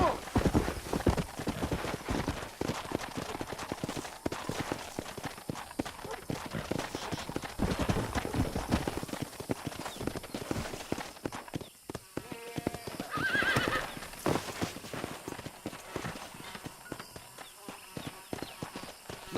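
Horse hooves clip-clop steadily alongside repeated neighing and whinnying in the Red Dead Redemption video game on Xbox One X, fairly close and continuous across the scene, with some voices audible in the background.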